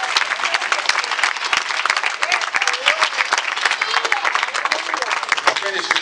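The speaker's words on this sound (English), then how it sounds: "Let's give God a hand clap of praise" A church congregation claps in praise, a dense, lively burst of many hands under shouted voices and exclamations, with sharp individual claps standing out throughout.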